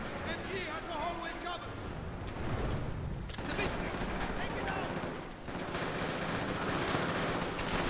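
Dense, continuous machine gun fire and battle noise from a World War II shooter set in an insane asylum, loud and sustained throughout, with voices shouting over the din.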